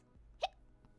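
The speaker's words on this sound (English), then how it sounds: "And of course, I get the hiccups." A single sharp hiccup bursts out near the middle of a short quiet stretch, close to the mic and alone, with only faint room noise around it.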